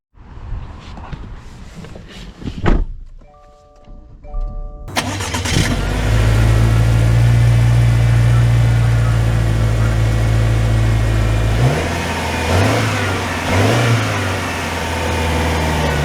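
A 2024 Subaru Outback Limited XT turbo starts up, then runs with a loud, steady engine drone as the car drives off and accelerates. The pitch climbs through gear changes toward the end, with faint speech early on.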